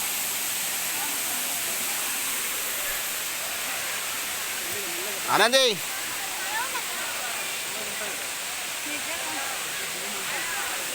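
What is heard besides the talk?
waterfall falling from a height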